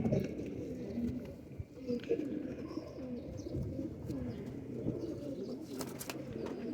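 Several purebred pigeons coo softly in low, throaty rolling calls, overlapping nearby, with a few faint rustles and a sharp tap near the end.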